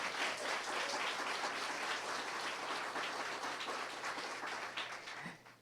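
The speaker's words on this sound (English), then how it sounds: "we need to give you a big round of applause" Steady audience applause honoring a school police chief fills the room, dense and continuous, tapering off near the end.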